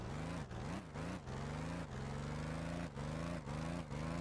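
In the Stormworks video game, a tank engine drones steadily, its pitch dipping and rising in a few short waves as the vehicle drives off, loud and continuous with no talking.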